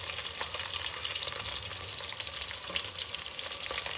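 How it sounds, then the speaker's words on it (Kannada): Chopped onions and green chillies fry in hot oil for mandakki oggarane. The crackle is dense and steady and fills the whole stretch, close and loud, with faint stirring in the mix. "ಚಾಪ್ ಮಾಡಿರೋ ಈರುಳ್ಳಿನ ಹಾಕಿ."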